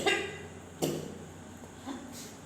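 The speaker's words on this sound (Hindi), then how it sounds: "आपने आप देख लिया होगा कि हमें भी खांसी आ रही है" A person coughs about three times, fairly close, with short pauses between the dry bursts and no talking over them.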